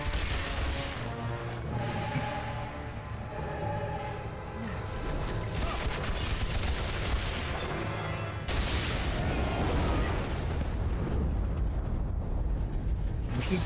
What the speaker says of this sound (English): Can't stay away from explosions and fire today